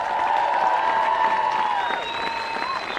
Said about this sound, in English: Please keep the round of applause going